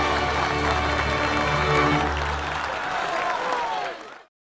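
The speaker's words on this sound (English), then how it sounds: "it deserves a round of applause" Applause from a crowd fills the space, with steady clapping and some murmur, then fades and cuts off near the end.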